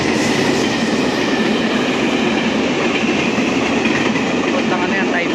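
A fast train on a line toward Taipei rushes past nearby, a loud, steady roar of wheels and rail clatter that fills the whole clip without pause.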